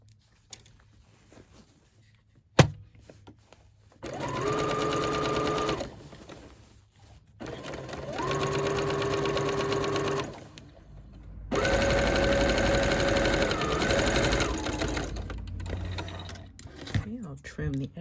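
A sewing machine stitches thick coat fabric for a Simplicity 8797 coat, running in three steady bursts of several seconds each, separated by short pauses and quiet handling.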